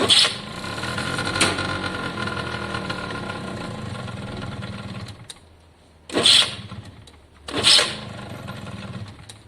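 An Italjet scooter engine cranks and catches briefly, running roughly, then dies, followed by two short revving bursts that fade quickly instead of settling into an idle. The sound is close and fairly loud.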